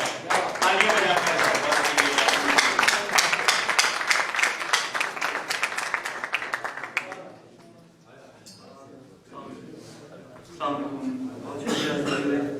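An audience claps warmly to welcome poet Asim Saleem Butt at a poetry gathering, dense sustained applause lasting several seconds before fading, followed by someone speaking and scattered brief claps returning.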